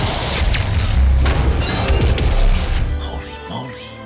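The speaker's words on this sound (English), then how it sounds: "Oh, and the BFG is back," The BFG weapon in DOOM (2016) fires with a heavy, sustained booming blast and crashing impacts, loud and dense throughout, with swooping synthetic tones partway through and the roar tapering off at the end.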